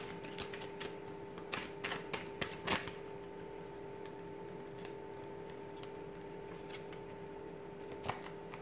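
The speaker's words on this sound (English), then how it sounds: "we'll give the cards a shuffle" Crisp, papery riffling bursts of cards being shuffled, clustered near the start with a faint flick later, over a steady low hum.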